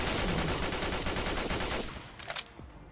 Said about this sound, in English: starting with the basic version of the homemade SMG